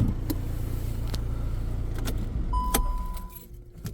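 A single key for a 2015 Volkswagen Golf 7 jangles close by in short metallic clinks against a quiet outdoor car-lot background.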